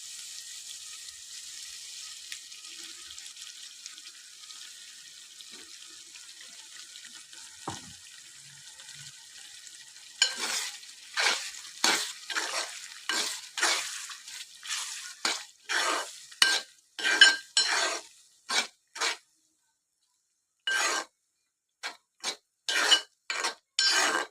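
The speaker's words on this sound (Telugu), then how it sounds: "కొంచెం మసాలా కూడా ఇట్లా ఆయిల్లో ఉడకాలి." Capsicum and masala paste frying in oil for a capsicum masala curry: a steady soft sizzle at first, then a run of short scraping stirring strokes with brief pauses, close up and with no talking.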